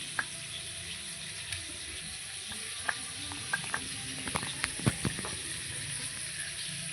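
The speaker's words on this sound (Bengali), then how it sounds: "আলুগুলো ঢাকা দিয়ে আমি লাল লাল করে ভেজে নেব" Potatoes frying in oil in a covered pan, giving a soft, steady sizzle with scattered small pops and crackles, fairly close but quiet and heard on its own.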